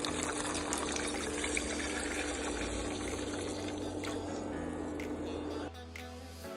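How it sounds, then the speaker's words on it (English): Water pours steadily and noisily into a pan of heated gochujang with a continuous rushing splash, then the flow changes and quiets slightly near the end. "After heating up, we will add the water."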